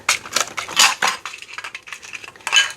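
Cooked apple pieces are dropped and scooped into a kitchen bowl, a quick run of bright clinks and clatters of utensil against dish, loud and close with no talking.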